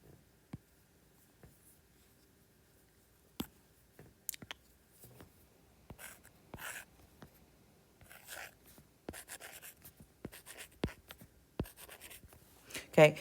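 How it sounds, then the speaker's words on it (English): Marker or chalk strokes writing letters on a board, a series of scattered taps and short scratchy bursts, quiet and close, growing busier toward the end. "I'm going to write these letters out"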